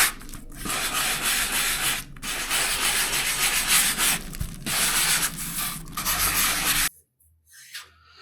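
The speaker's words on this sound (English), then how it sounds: "quickly sand over the back." Sandpaper rubbed over the back of a hand-made vintage Reddy Kilowatt sign pattern, a close, steady scratchy rasp in long strokes with brief pauses, ending in near silence.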